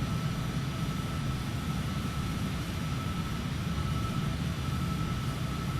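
Cessna Citation CJ4 jet accelerating for takeoff in Microsoft Flight Simulator 2020, a steady loud engine roar with broadband rumble and a faint tonal whine, continuous and unchanging throughout with no talking.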